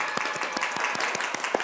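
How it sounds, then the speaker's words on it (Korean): A small studio audience on a talk show's first episode claps in a light, evenly spaced rhythm. The claps are fairly quiet and distinct, with a faint murmur underneath. "박수!"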